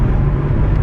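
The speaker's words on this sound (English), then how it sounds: "sorry for any wind noise you do hear" Steady low rumble and broadband wind buffeting inside a car driving with the windows down, continuous and loud with no talk, as the driver pushes the throttle hard on Michelin Pilot Sport 4 tyres.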